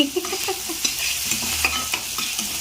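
Potato fry being stirred in a frying pan with chili powder added, with a steady sizzle under repeated scraping strokes of the spoon, close and fairly loud.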